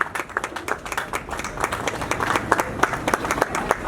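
Audience clapping at a Nepali Congress (BP) regional office inauguration and party-joining event, a steady run of many hands applauding together, fairly close and continuous, with no voices over it.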